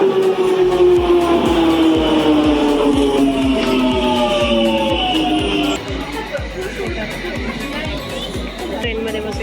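A London Underground tube train pulls into the station with a falling electric whine and rhythmic wheel clicks over rail joints. It is loud and close, with a crowd chattering on the platform as the train slows to a stop.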